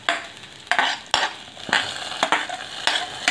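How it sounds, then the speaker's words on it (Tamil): Hot tempering sizzles as it is poured into mutton bone soup in a pot while a spoon stirs and clinks against the sides in uneven strokes. Close up, with no voices. "இப்போது இதில் இந்த நம்ம தாளிக்கிறத எடுத்து அதில் போட்டுடலாம்."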